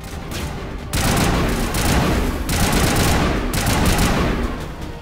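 Enemy gunfire in the shooter game Mass Effect Legendary Edition, dense sustained bursts of rapid shots with booming impacts, loud and continuous across the stretch.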